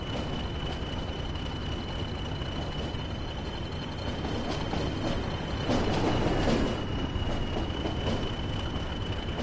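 A train moving under power in the Train Sim World 2 video game: a steady, continuous rolling rumble with faint rhythmic clickety-clack, swelling slightly toward the middle, with no voices.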